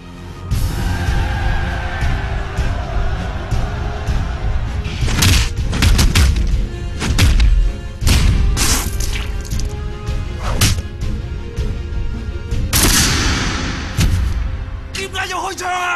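Gunshots ring out in a scene from the 2008 Hong Kong martial arts film Ip Man: several sharp, loud bangs at irregular intervals over a dense soundtrack with voices and music.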